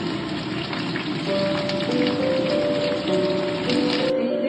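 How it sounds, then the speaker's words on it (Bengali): Capsicum and bell pepper fry in olive oil, giving a dense, even rain-like crackle that stays close and steady throughout, with a faint tonal hum in the background. "একটু অলিভ অয়েল দিলাম, এবার ক্যাপসিকামটা হালকা ভেজে"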